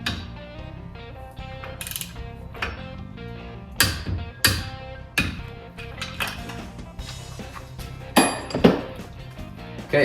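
Metal tool work on a DuraClutch secondary clutch of a Polaris Ranger 900, with sharp clinks, taps and ratcheting clicks arriving in irregular bursts against quiet shop background.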